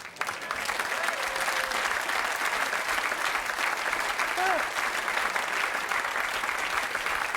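A TV game-show studio audience applauds in a dense, even wash of clapping that holds steady throughout, with a few faint voices underneath.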